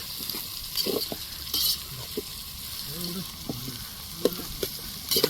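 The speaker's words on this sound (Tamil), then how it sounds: "இதே வதக்குங்க" Chicken curry ingredients being sautéed in a pan while friends cook outdoors, with steady sizzling under scattered scraping stirs and occasional faint voices nearby.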